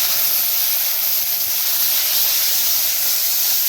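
Water poured into a pan of hot lata fish curry cooked with green banana gives a steady, loud hiss of steam that holds evenly throughout with no voices.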